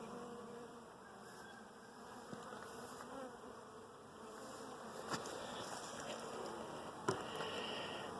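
Honeybees drone steadily on a hive frame of honey, brood and many drones, a close, constant buzz with a few faint knocks and rustles mixed in.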